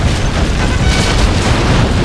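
Ordnance blast in Command & Conquer Generals with a USA force, a loud, dense, sustained roar of explosion rumble with no pauses and no voices.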